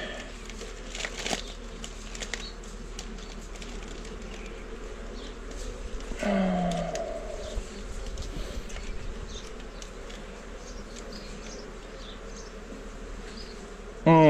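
Honeybees on Réunion's Mafate, in October, buzz steadily around hive frames being handled, a continuous close insect drone with brief louder moments, no one speaking over it.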